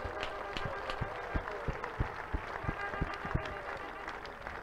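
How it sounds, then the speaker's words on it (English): A congregation at an Imo State crusade claps for Jesus, a room full of hands striking in a steady rhythmic beat, sharp regular claps over a dense bed of crowd noise and voices. "Can we clap for Jesus?"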